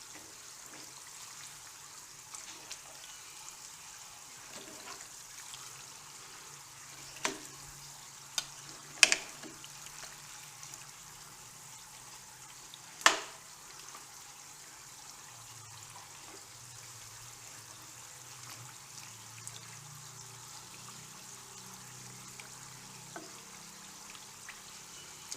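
Pork skin crackers frying gently in oil on a low flame, a faint steady bubbling sizzle with a few sharp scraping clicks as they are stirred now and then; no talking.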